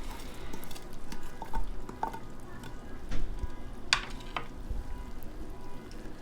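Chopped coriander and green chili being gently mixed into cooked dal in a pot, soft stirring scrapes and light clinks of a spoon against the pan over a faint simmering hiss, close and fairly quiet.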